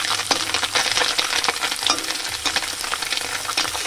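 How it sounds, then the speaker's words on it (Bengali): Small mourola fish frying in hot oil in a pan, turned over as they cook: a steady close sizzle with scattered crackles and soft clicks from the flipping, no talk. "এভাবে আমি ভেজে নেব উল্টে পাল্টে।"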